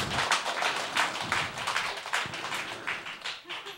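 An audience claps together in a hall during a recovery testimony event, a dense, close patter of many hands that runs without pause for several seconds and slowly eases toward the end.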